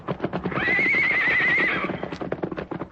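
A powerful white horse whinnies loudly and long, a rising wavering neigh over clip-clopping hooves and a busy radio-drama mix, with a sharp shout near the end.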